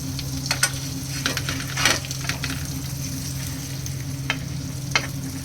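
Masala prawns sautéed gently in oil over a medium flame give a steady low sizzle, broken by a few soft scrapes and clinks as they are turned in the pan.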